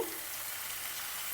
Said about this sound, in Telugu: ఇటువైపు కూడా ముక్కల ఆ గ్రేవీ అంతా చేప ముక్కలకి పట్టేలాగా వేయించుకోవాలి